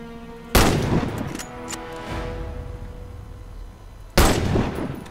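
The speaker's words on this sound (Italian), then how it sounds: "Hit all the targets with your sniper rifle" Two loud, close sniper rifle shots ring out in the Warface shooter on PC, about three and a half seconds apart, each sharp crack trailing into a long echoing tail.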